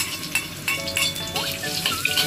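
Garlic sizzling in hot oil in a frying pan for a chilli omelette, a steady bright crackle with stirring scrapes, close and continuous without talk.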